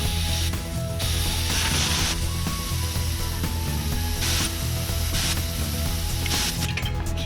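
Rapid mechanical clicking and whooshing of a pump pushing air into a recumbent trike's rear tire up to 70 psi, loud and continuous at close range, with brief hissing bursts.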